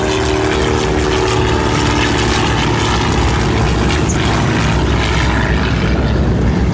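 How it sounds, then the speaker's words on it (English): A Fairchild PT-24 primary trainer airplane flies past at a World War II airshow, its propeller engine droning loudly and steadily throughout. "PT-24 Fairchild. What a beautiful airplane."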